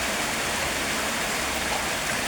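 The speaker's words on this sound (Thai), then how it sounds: "วันนี้ฝนตก" Rain falling, a dense, even rushing hiss that fills the whole moment without pause, fairly loud with no individual drops standing out and no voices.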